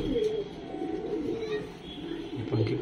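Fancy pigeons, including jeera and paikhe breeds, keep up a soft, continuous cooing nearby, a low rolling murmur with a few sharper calls near the end and faint talk in the background.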